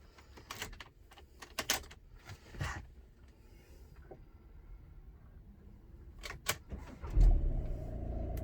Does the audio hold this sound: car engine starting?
yes